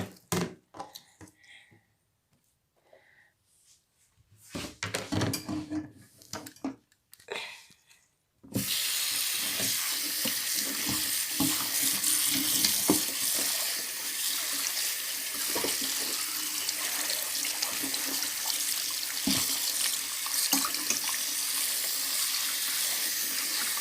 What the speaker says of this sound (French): Maintenant, je vais les laver.